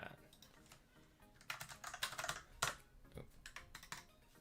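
Someone types on a computer keyboard close by, bursts of quick key clicks with short pauses between them, while faint speech is present.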